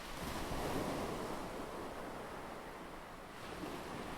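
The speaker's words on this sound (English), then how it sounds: "The wind, it's unnatural." On the open sea, strong wind gusts over rolling waves in a dramatized ancient voyage, a continuous rushing roar of surf and air, fairly faint and steady, with no voices.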